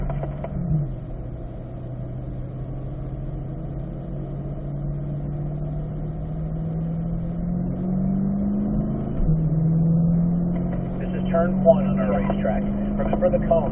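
A track car on a circuit, part of a group driving with several car lengths between cars, with engine tone rising steadily through the gears and a drop at a shift, under an instructor's continuous talk.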